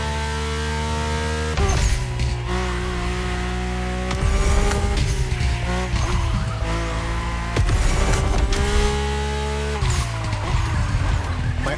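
A Mercedes-AMG One hypercar in The Crew Motorfest drives hard, engine rising and falling through gear changes with bursts of tire noise, loud and close over a steady background score.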